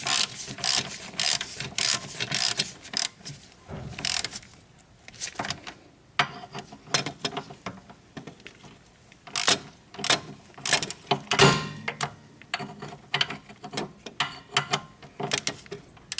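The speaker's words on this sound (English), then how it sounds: "So now we're gonna bring our ratchet so we can tighten this." A hand ratchet tightens the caliper bracket bolts on the rear brakes of a 2004 Hyundai Sonata, its clicks coming in repeated quick bursts with short pauses between strokes, close and alone.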